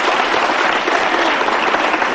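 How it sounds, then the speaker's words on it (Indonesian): Steady, full applause from a studio audience, loud and continuous with no break and no talk over it. "sekali lagi tepuk tangan dulu buat Prita"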